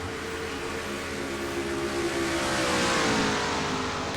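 Simulated NASCAR stock car engines in the NASCAR Racing 2003 video game at Dover, a steady loud roar with a slowly rising pitch as the cars pass, continuous with no talk.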